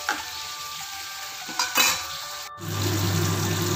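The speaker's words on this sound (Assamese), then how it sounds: "এতিয়া মাছবোৰ ভাজি হৈ গ'ল।" Fish frying in oil in a pan gives a steady, close sizzle that grows fuller and louder partway through, with no talking.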